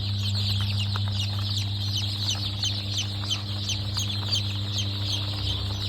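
Many Triveni crossbred laying hens cluck and chatter together in a steady, dense chorus, with a constant low hum running underneath.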